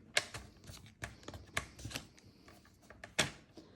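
Box material cut in short repeated strokes while shaping a faceted box, giving a series of sharp close clicks and snips at an uneven rhythm, fairly quiet, with no talk.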